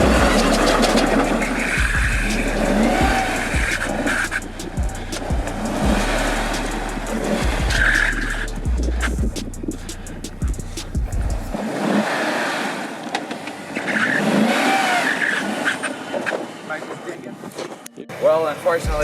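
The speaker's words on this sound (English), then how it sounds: "Oh, you're drifting." An off-road vehicle drifts in snow while towing a Conqueror UEV14 off-road trailer, with a loud revving engine and spinning tires that surge and fade, and voices talking over it.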